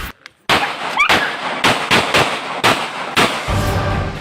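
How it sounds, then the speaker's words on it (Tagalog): A man fires a 9mm pistol repeatedly, sharp loud cracks spaced irregularly, roughly eight shots, with a low rumble near the end. "ang baril, walang habas niyang pinagpuputok"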